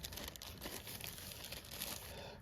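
A plastic bag wrapping the parts tray of a vintage 1960s Ruch PZL P.23 model aircraft kit is handled, giving quiet, continuous crinkling and rustling close by, with no talk.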